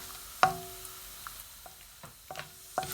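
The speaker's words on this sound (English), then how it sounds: "I'm gonna stir fry it till it becomes nice brown and crispy, and the ghee gets the taste of these dry fruits" Dry fruits fry in hot ghee in a pan, with a spoon clinking against the metal in sharp, irregular stirring strokes over a soft, steady sizzle.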